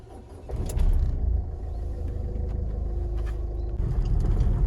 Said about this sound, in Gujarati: diesel engine no sound